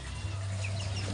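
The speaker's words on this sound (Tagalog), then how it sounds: "Ito yung mga manok ko." Chickens cluck faintly in a windy yard, soft scattered calls over a steady low wind hum.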